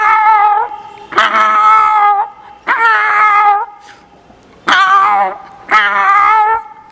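A stage performer imitates a tomcat, producing long, loud, wavering meows and yowls in five drawn-out calls separated by brief pauses, with no other sound underneath.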